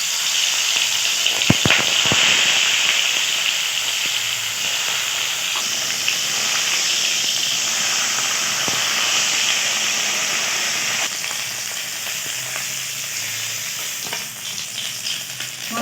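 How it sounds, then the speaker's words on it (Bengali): Small carp (charapona) rubbed with salt and turmeric fry in hot oil, giving a steady close sizzle and hiss with occasional sharp pops and stirring, and no talking. "মাছগুলো ভাজা হয়ে গেছে, এবার আমি তুলে নেব"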